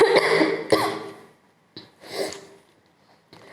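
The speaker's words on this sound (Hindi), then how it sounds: "एक्चुअली थोड़ा खांसी है" A person coughs several times in short, harsh bursts, close up, with a rough throat-clearing sound between them.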